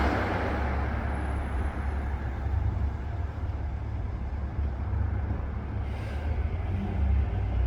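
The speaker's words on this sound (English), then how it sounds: "Here's another bus." A city bus pulls up toward a stop, its deep engine rumble steady and fairly close alongside continuous traffic noise, with a brief hiss like an air brake near the end.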